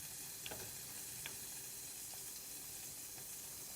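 A knob of butter melts over low heat in a non-stick pan, giving a soft, steady sizzle with a few faint ticks and pops, quiet and close with no voices.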